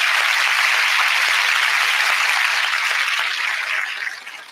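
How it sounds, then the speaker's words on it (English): A church congregation at a Sunday service claps in a dense, sustained round of applause that holds steady for several seconds before thinning out at the end. "give Lenore a round of applause"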